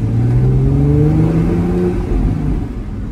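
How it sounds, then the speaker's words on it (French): A Porsche engine revs steadily and loudly up close, its deep mechanical drone rising and sliding in pitch across about three seconds with no voices. "Ah, le son Porsche."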